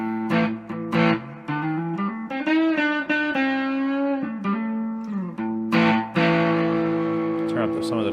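Electric guitar on the neck pickup through a Laney BCC Monolith distortion pedal, sustained distorted notes and bends ringing out with a few sharp picked attacks, close and fairly loud with no talking.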